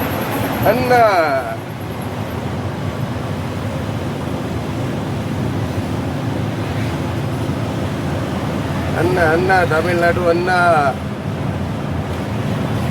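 Steady, broad rushing of water pours over a dam's overflow spillway and fills the whole stretch, with wind buffeting the microphone and people talking briefly at the start and near the end.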